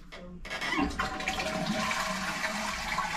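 A pull-chain toilet in a hotel bedroom at Alton Towers flushing, a loud rushing gush of water that starts abruptly and keeps pouring steadily, heard up close.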